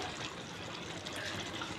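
Rice boils in a pot of water for chicken biryani, giving a steady, dense bubbling and hissing that stays even throughout at moderate loudness.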